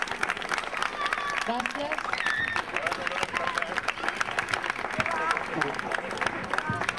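Audience applause at an outdoor dance performance in La Vilella Alta, dense continuous clapping with crowd noise, and a person briefly speaks over it.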